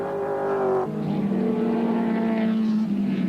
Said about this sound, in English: There they are, in fact, the three cars dicing for third position.